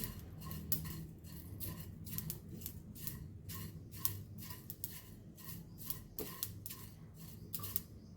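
Green chilies are snipped with scissors for Goan varan bhaat, a close series of crisp, regular cuts roughly twice a second, quiet and steady with no talking.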